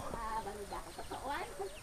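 Chickens kept in a village pen together with rabbits, several soft clucks and short calls close by in quick succession over a quiet background.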